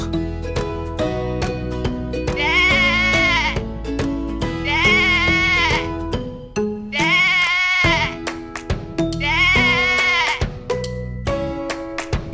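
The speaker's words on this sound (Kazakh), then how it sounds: "Ешкі." A goat bleats four times at even intervals, each quavering call loud and up close, riding over continuous children's cartoon music about domestic animals.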